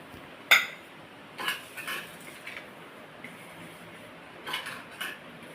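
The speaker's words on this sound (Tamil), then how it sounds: "இட்லி தட்டில் எண்ணெய் தடவிக்கணும்." Metal idli plates being greased with oil for chicken momos give a few sharp clinks and light scrapes, spaced irregularly and close by against a quiet background.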